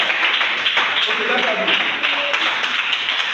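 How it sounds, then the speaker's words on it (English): Applause from a school audience at a literary event marking a writer's birthday, a dense steady patter of many hands clapping throughout, fairly loud and continuous with a murmur of voices mixed in. "Okay, please, a round of applause for that."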